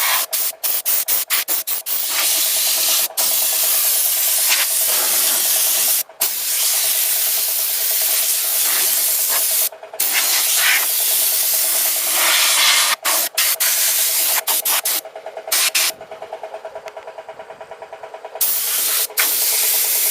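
A loud, continuous blast of compressed air hisses while debris is blown off a lawn mower after mowing, broken by brief pauses and sputtering bursts as the nozzle is moved back and forth.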